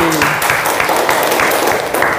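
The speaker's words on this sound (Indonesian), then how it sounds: "tepuk tangan untuk Cindy" Classroom applause for a student during a group discussion lesson, a loud, dense burst of many hands clapping with slightly pulsing rhythm, close and with no talk over it.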